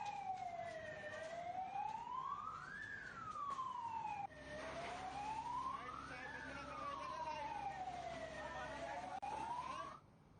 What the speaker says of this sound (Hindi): फिलहाल पुलिस को सूचना दी गई और उसके बाद दमकल विभाग मौके पर पहुंचता है